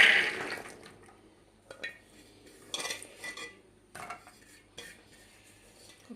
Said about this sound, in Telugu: వాటి శుభ్రంగా కడుక్కొని ఇప్పుడు కుక్కర్లోకి వేసుకుంటున్నానండి